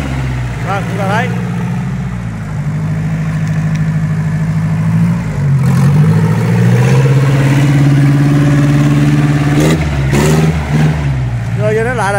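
Yanmar FX28D tractor, a 28-horsepower four-wheel-drive Japanese model with a four-cylinder diesel, running steadily with a loud, continuous low engine drone that rises slightly in pitch partway through.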